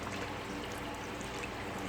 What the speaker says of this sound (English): So I'm going to pour this in here